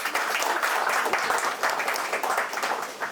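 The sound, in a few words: audience applause at a satire reading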